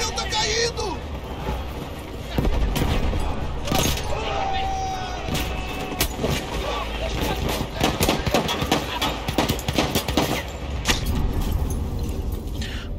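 Rapid gunfire from a weapon in the World War I shooter game Battlefield 1, with sharp bursts of shots over a constant din of battle and a falling airship, while a voice talks over the action.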